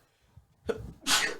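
A single close sneeze breaks out after a short inhaled buildup, a sharp burst in a quiet room.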